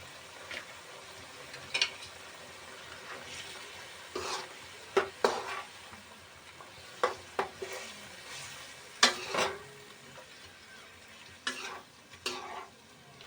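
Chicken in green gravy with yogurt and ginger-garlic paste being stirred in a pan: a low sizzle runs throughout, broken by repeated scraping and clinking strokes of the spoon against the pan, close and fairly quiet, with no voices.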